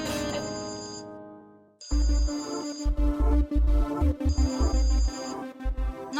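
A phone ringtone plays a repeating electronic melody, loud and close, in bursts with short gaps between phrases.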